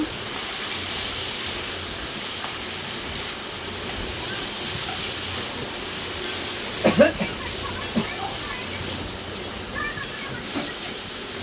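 Potato and ridge gourd stir-fry in a pan under a steady, hissing sizzle, with occasional clinks and scrapes of stirring through the middle.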